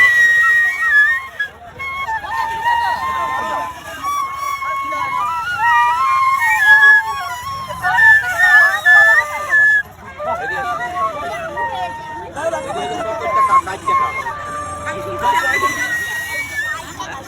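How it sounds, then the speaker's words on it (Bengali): A street musician plays a bamboo flute, a clear wavering melody running throughout over busy outdoor crowd babble and passing traffic, with people talking nearby. "পিছনে দেখি কি সুন্দর সুরে বাঁশি বাজাইতেছে"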